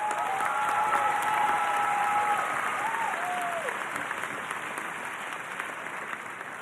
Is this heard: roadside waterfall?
no